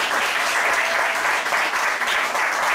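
An audience at a county Christmas song festival claps loudly and steadily for preschool performers on stage, a dense unbroken round of applause.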